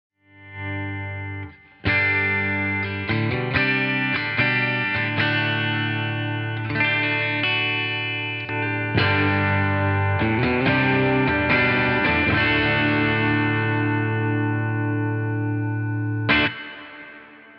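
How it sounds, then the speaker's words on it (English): Distorted electric guitar tone from a Fender Acoustasonic Stratocaster, played as loud, sustained chords and riffs with a brief opening strum, then continuous crunchy playing that ends abruptly near the close. "you can really quickly go from clean to dirt with the electric guitar sound"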